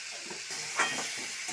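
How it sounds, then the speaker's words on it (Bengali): Bitter gourd pieces frying in hot oil with dried chilli and five-spice, a steady close sizzle with a slight stirring clatter throughout. "তেলের উপরে করলাগুলো দিয়ে দেবো।"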